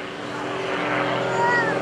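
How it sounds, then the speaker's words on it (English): Droning propeller engine of a Pitts aerobatic airplane at an airshow, a steady loud roar with rising and falling pitch as it maneuvers overhead, heard under announcer talk. "He's got the engine torque rolling the airplane around now."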